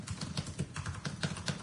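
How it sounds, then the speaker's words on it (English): Fingers type on a computer keyboard in a quick, fairly even patter of soft keystrokes, close but quiet, with no other sound around them. "I'm typing this out."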